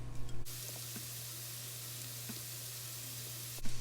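Onion softening in butter in a pan gives a steady, even sizzle throughout, with a louder burst of noise at the start and again near the end.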